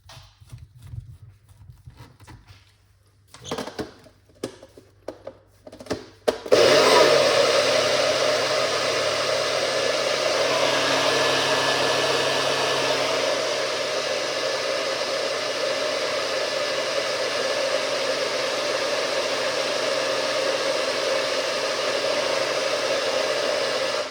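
A kitchen blender whirs continuously through a carrot and pumpkin punch with water, a loud steady motor roar that starts abruptly after a few clicks and handling sounds and keeps running.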